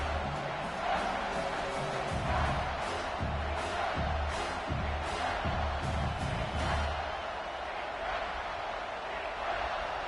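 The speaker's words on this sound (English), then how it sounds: "This crowd is trying to inspire this defense to make a big red zone stop." A large football stadium crowd roars continuously in a college game between South Carolina and Kansas State, pushing its defense for a red zone stop, with a dense, sustained wash of cheering and a commentator talking over it.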